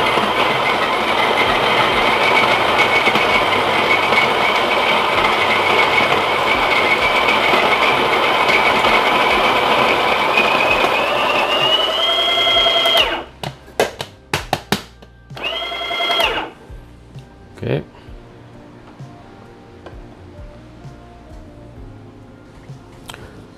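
A Breville Barista Express grinder grinds coffee beans with a loud, steady whirring buzz that lasts about twelve seconds, rises slightly in pitch as it empties, then stops, followed by short bursts and taps.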